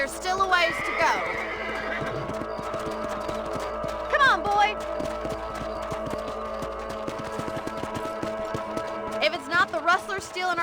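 In the video game Red Dead Redemption, horses whinny several times over a steady outdoor background with hoof clops, while voices talk throughout.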